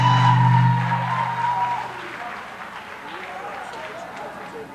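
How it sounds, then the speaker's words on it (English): Audience applause at a 1990 town talent show in Windsor, Connecticut, a broad crowd clatter that starts loud over a lingering tone and voice, then thins and continues at a lower level. "One more round of applause for Threat Power Productions."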